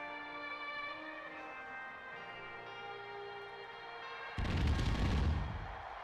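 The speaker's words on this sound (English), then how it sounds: "Those fireworks were awfully low, weren't they?" Fireworks burst in NASCAR Thunder 2004, a loud broadband blast of booming explosions erupting over a sustained musical drone, lasting a second or two before fading.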